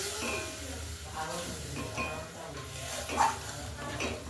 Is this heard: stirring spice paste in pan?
yes